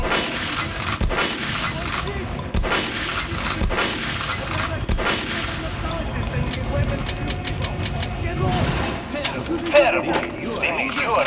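Gunfire in Metro: Last Light Redux crackles as repeated shots and scattered bursts over a dense, steady game soundscape, with speech mixed throughout.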